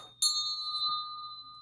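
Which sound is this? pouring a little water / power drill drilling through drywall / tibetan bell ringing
tibetan bell ringing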